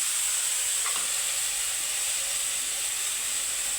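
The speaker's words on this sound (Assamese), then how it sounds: "পিঁয়াজখিনি ভাজি ল'লোঁ, এই পাস্তাখিনি ইয়াতে দি লৈছোঁ।" Pasta sizzling in a pan with fried onions gives a soft, steady hiss close by, unchanging from start to finish with no voices.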